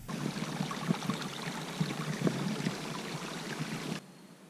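Water trickles and splashes steadily through a gravity filter outdoors, a continuous close stream with small irregular drips, stopping abruptly near the end.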